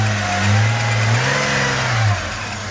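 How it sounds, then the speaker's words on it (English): A Holden VR Commodore engine revs up close, a loud deep rumble that swells, holds and drops back toward idle. "We'll just rev it up a bit so you get a bit of a sound."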